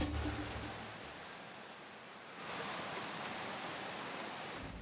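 A heavy rain downpour, broadcast during live flooding coverage, gives a dense, steady hiss of falling water that swells slightly louder partway through, with no voices.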